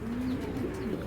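A Tiger racer pigeon coos once, a soft low rolling call close by with no other sound around it.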